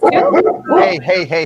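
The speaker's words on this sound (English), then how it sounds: "That's my dog." A pet dog gives several close yips and whimpering barks in quick succession, mixed with a person talking over them.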